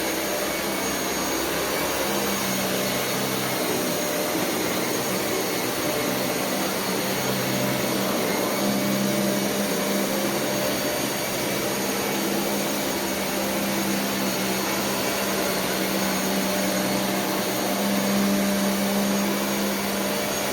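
Dyson Cinetic Big Ball UP14 DC77 upright vacuum cleaner running on carpet, a loud, steady whirring drone that holds without pause and stays close, with no talk.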